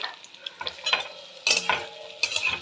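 Potatoes drop into a frying pan of hot oil with white and black mustard seeds while cooking a spicy cabbage dish, giving a few short bursts of sizzling and stirring scrapes that swell and fade.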